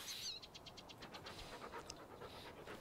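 A dog pants in Farming Simulator 19 with quick, steady rhythmic breaths, soft and fairly faint against a low background hum.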